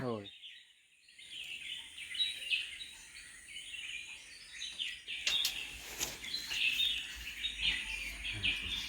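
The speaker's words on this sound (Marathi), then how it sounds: "पण पक्ष्यांचा आवाज बघा" Many birds chirp and tweet in a busy, continuous chorus at moderate distance around a rural home in Konkan, with a faint voice briefly at the start.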